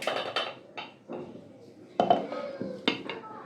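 A lid is set on a pot of cooking halim lentils, heard as a series of close metallic clanks and clinks spaced across a few seconds in a quiet room.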